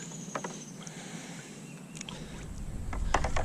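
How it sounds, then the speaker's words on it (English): Oily peppermint soap batter being stirred with a paddle, producing soft wet sloshing and occasional light knocks against the container, close by, growing denser and louder toward the end. "And I'm just gonna stir it basically with my paddle here."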